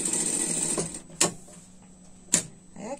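A domestic sewing machine topstitches a pet winter dress in a fast continuous whir that stops, followed by two sharp clicks and a short restart, close and clear with no talk.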